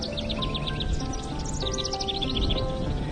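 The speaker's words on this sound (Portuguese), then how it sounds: "Vejam os passarinhos que voam pelo céu." Small birds chirp in quick, high, repeated bursts over a steady low background hum, continuous and moderately close throughout.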